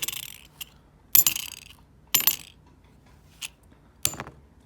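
Silver half-dollar coins dropped onto one another, giving about five separate bright, ringing clinks spaced a second or so apart, close and clear with quiet gaps between.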